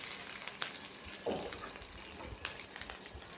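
Onions and green chilies sautéing in a pan for a ragi dish, giving a faint, steady sizzle with a few soft stirring clicks.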